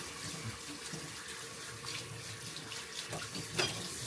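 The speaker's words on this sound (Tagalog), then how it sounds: "At kailangan hugasan natin ang kanilang mga plato." A tap runs steadily as the dogs' dirty plates are rinsed under it, with a continuous hiss of water and faint clinks near the end.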